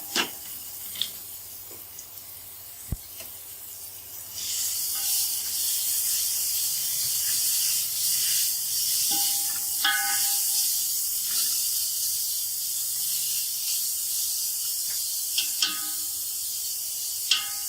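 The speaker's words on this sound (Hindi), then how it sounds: "गोश्त हमारा फ्राई हो चुका है। अब इसमें गाजरें डाल देंगे।" Carrots dropped into frying chicken for long macaroni, a steady broad sizzle and hiss that swells after a few seconds and holds, with faint clinks and taps scattered through it.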